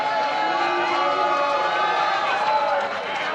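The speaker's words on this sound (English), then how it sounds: "I hear some cheering and I also hear some booing" A crowd at a political leadership conference holds up a loud, continuous mix of cheering and booing, with voices rising and falling throughout.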